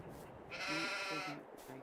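Sheep and a lamb bleating in the farming game Farming Simulator 22, several wavering calls from close by, some overlapping, across a quiet background.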